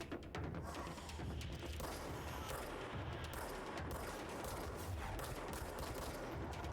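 Dense, steady gunfire from the video game Control rattles continuously, with rapid overlapping shots and bursts forming a loud, unbroken wall of firing throughout.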